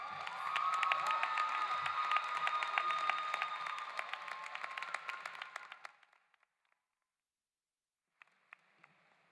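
Audience applause and cheering for graduating students at a live-streamed Black/Pan-African graduation ceremony, a steady crowd roar with clapping that fades out after about six seconds, followed by a few scattered claps.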